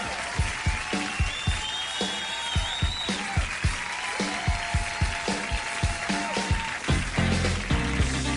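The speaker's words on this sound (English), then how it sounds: "The audience applauding along as if this were a hoedown." Rhythmic clapping from a TV talk-show studio audience, steady beats clapping along in time with a live band, close and continuous throughout.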